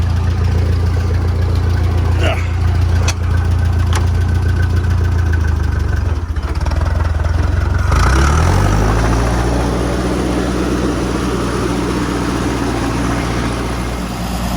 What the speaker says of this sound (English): that's the tractor running on paraffin now